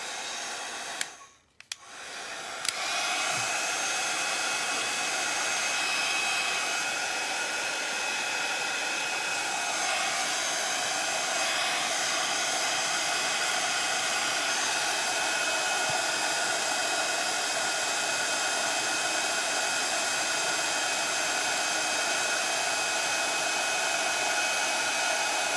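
A hair dryer blows steadily and loudly to dry a foil transfer craft piece, a sustained whooshing roar that starts after a brief click and runs on unbroken.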